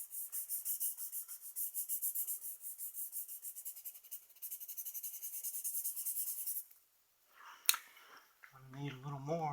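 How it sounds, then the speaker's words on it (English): A burnishing tool rubs over a graphite still-life drawing on paper in quick, regular scratchy strokes for several seconds. A brief pause and a soft voice follow. "Start moving some of that out away with the burnishing tool."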